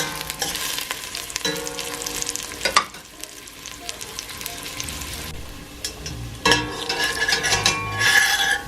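Slices of ginger sizzle and fry in a pot as the base for a chicken soup, a steady crackling hiss with stirring scrapes and a louder burst of spattering near the end.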